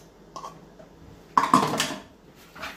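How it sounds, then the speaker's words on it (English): A fork stirs egg into melted cheese in a bowl, making a few scraping clinks and a brief burst of busy mixing at close range. "really stir it up with the fork"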